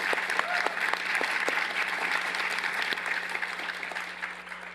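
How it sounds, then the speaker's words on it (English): An audience claps steadily and warmly throughout, a dense patter of applause in a large room with a faint hum underneath. "great applause for this wonderful panel"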